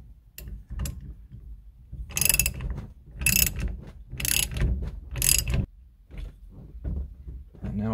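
A nut is ratcheted onto a rebuilt 1976 Chevy C10 GM tilt steering column, with four sharp bursts of rapid ratchet clicking separated by short pauses and quieter handling of parts in between.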